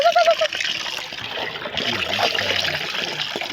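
A tap runs steadily while a child's hands are washed, giving a loud, continuous splashing hiss. Voices talk over the water throughout.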